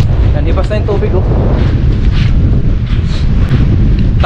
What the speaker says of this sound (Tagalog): masyadong malakas ang hangin